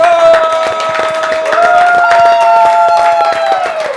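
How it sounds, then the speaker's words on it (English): Applause and cheering from a talk-show audience for a guest, with steady claps under tonal music or sustained notes running throughout. "Well, guys, round of applause for Dr. Rowe."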